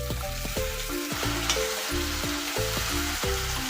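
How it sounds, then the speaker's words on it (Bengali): Chopped tomato sizzles steadily in a pan while cooking for a village-style chicken biryani, a close, continuous frying hiss with no voices. "টমেটোটা খুব ভালো করে ভেজে নেব।"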